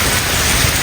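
Torrential rain falling steadily in Islamabad, a thick, unbroken wash of noise without any talking.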